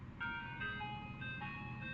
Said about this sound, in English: I turn my eyes to fall upon the approaching truck.